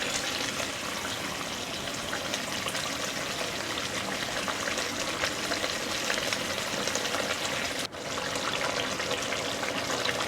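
Kalbos (rohu-type) fish curry simmering and being stirred in a pan, a steady dense sizzle and bubbling that runs continuously at close range, with one brief dip near the end and no voices.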